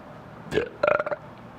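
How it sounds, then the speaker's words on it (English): A man's single burp, a short rumble followed by a longer croaking belch with a few throaty pulses, close and fairly loud in a quiet room. "And then he burps"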